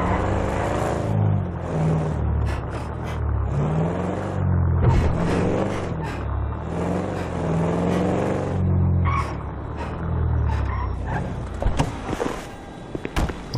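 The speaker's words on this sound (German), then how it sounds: "Ich glaube, der Wagen braucht mal neue Stoßdämpfer, der hört sich ein bisschen komisch an." A car engine in Grand Theft Auto V revs up and down with rising and falling pitch, followed near the end by a few sharp clunks and knocks.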